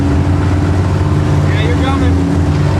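A Chevy truck's tire spinning while the engine drones steadily and loudly up close, a continuous low motor rumble with a brief higher whine partway through.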